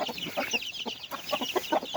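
Gamecock chickens being raised for fighting cluck and call in repeated short bursts, fairly close, with no talk over them.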